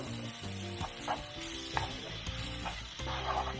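Red cabbage braises in a pan with a soft, steady sizzle, punctuated by several stirring scrapes and clicks of a utensil.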